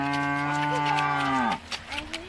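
A pregnant dairy cow with a full udder gives one long, loud, close moo that slides down in pitch and fades into faint background sounds.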